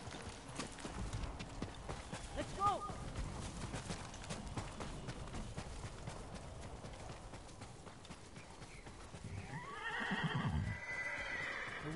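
Horses shift and clop their hooves near a lakeside fishing camp in a wooded area during the Mongol era, with a sharp neigh early on and a louder whinny toward the end over quiet outdoor ambience.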